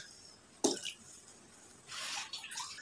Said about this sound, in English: Now water has started coming down.